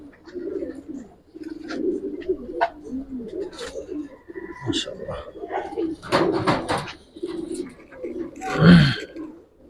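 Giribaz silver-coloured pigeons in a loft coo in repeated low, throaty phrases at close range, with rustling, clicks and brief noises between calls and one louder burst near the end.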